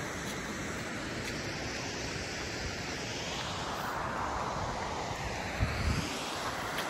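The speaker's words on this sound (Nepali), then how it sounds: "यो चाहिँ बाहुबलीको पालाको झरना" A waterfall in Michinoku National Park rushes with a continuous broadband roar, fairly distant and even, with a brief louder swell near the end.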